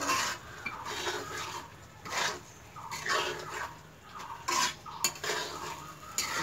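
Eggs with onion, chilli and capsicum stir-fried in a pan, with repeated scraping and clinking of a spatula against metal in an uneven rhythm, close and fairly loud.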